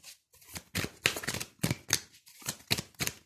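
Tarot cards being shuffled and dealt in a series of crisp riffles and slaps, about eight close bursts spread over a few seconds, with no talking.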